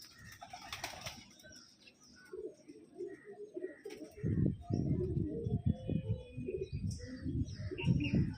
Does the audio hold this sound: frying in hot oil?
no